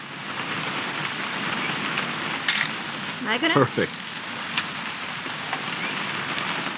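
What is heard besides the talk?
rain falling, from a video game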